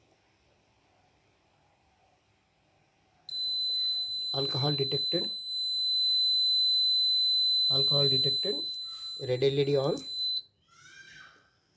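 The buzzer alarm of an 8051-based accident and alcohol detection system sounds loudly and continuously for about seven seconds as a steady, high-pitched electronic tone, while someone speaks over it.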